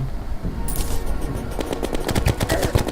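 Gun firing in the Terraria video game, a rapid string of sharp shots starting early and growing denser and louder toward the end, with some background game noise.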